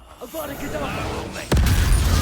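The Avada Kedavra killing curse is cast in Hogwarts Legacy: a sudden loud, sustained blast erupts partway through and drowns out the quieter murmur of game voices and effects before it.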